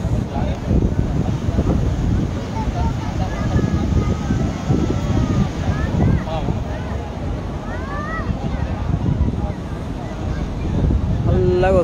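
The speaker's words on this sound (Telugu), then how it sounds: "అంత భయంకరంగా ఘోషిస్తుంది సముద్రం ఆ శబ్దం" Sea waves roar and wash in steadily at Baga beach at night, a continuous broadband surge with gusty wind buffeting the microphone and people talking over it.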